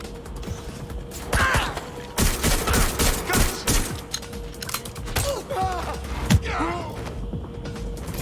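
Gunfire in the video game Watch Dogs Legion: bursts of shots rattle out in clusters, loud and close, mixed with mechanical creaks and clanks, while a voice speaks briefly over the firefight.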